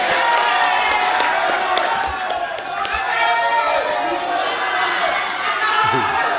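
At a televised Kalimantan Selatan gubernatorial candidate debate, a large hall audience breaks into loud, sustained applause and cheering, a dense crowd roar with scattered whoops that runs unbroken throughout.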